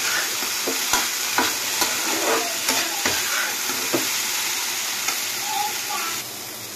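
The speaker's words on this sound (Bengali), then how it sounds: "এটাকে একটু লাল লাল করে ভেজে নেব।" Chickpeas and potatoes stir-fried until reddish in a pan, with a spoon tapping and scraping in an irregular rhythm over a constant close sizzle that softens near the end.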